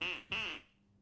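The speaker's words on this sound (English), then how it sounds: "I could have sworn that I heard a duck quacking" A duck quacks twice in quick succession, the two nasal calls loud and close, then fading into a quiet room with no talk.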